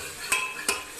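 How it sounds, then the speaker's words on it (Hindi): Masala frying in oil for a bottle gourd curry, a steady soft sizzle broken by two brief scraping stirs of a spoon against the pan. "और इसे अच्छे से भूनूंगी"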